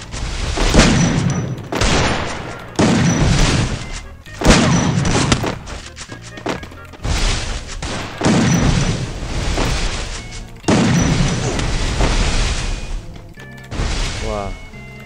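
A long shotgun fires again and again in a PUBG-style mobile shooter, about ten heavy booms spaced roughly a second apart, loud and close, with a voice talking over the shots.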